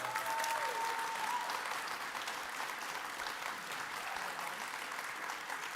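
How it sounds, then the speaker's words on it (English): A church congregation claps steadily during a livestreamed service, a thick, even wash of applause lasting the whole stretch, with a faint tonal note fading early on. "Y'all give them another round of applause for being here."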